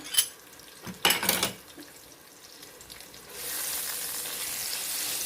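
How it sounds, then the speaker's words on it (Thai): Spring onions and coriander roots stir-fry in a pan, a couple of brief clattering scrapes early on followed by a steady, fairly quiet sizzle that swells and holds to the end. "แล้วก็เอาต้นหอม รากผักชี ใส่ลงไปค่ะ ผัดให้หอมนะคะ"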